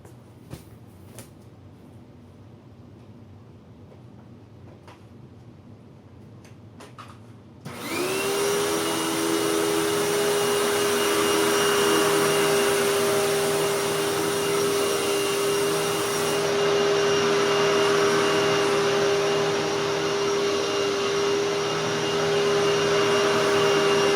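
A Hoover Tempo Widepath upright vacuum cleaner, set to medium for carpet, switches on after a quiet room stretch. It then runs over carpet with a loud, steady whining drone close by.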